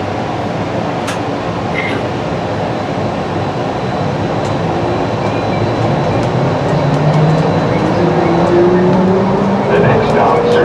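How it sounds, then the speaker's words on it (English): A Dallas Fort Worth Airport Skylink shuttle train rumbles and rolls along with a steady roar and faint rail clatter, a rising whine building as it picks up speed, with a few voices faintly underneath. "This train is departing."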